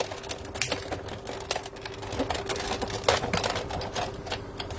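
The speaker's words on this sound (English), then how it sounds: "we're going to bring it into the machine, and you're just going to cut it just like any old piece of cardstock and a die" Die cutting machine running cardstock and a die through its rollers, a busy stream of close mechanical clicks and ratcheting taps.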